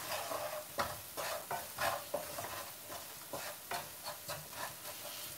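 Chili powder, mixed powder, kasuri methi, salt and garam masala fry in a pan for a black pepper curry, a soft sizzle with repeated scraping stirs at an even rhythm, faint and close.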